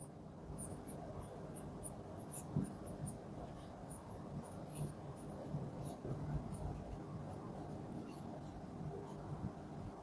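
Pen scratching on paper while jotting notes on force resolution in an engineering mechanics lesson, quiet, intermittent scribbling strokes over a faint steady room hum, no speech.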